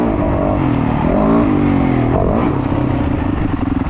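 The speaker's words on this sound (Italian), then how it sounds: "Adesso scaldiamo un po' la moto" A loud motocross motorcycle engine warming up idles and revs up and down close by, rising in pitch then settling into a rough, steady rumble.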